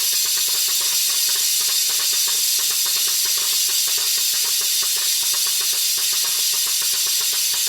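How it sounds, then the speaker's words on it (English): A pressure cooker releases steam while vegetable broth cooks, making a loud, continuous, unbroken hiss that fills the whole stretch without any voices. "You see how much steam comes out of that?"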